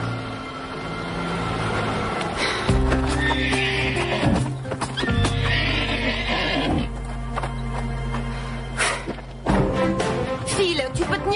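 Horses neigh and whinny loudly and close by, with steady clip-clop of hooves throughout on an outdoor ride with real animals, the calls rising and falling in several long bursts.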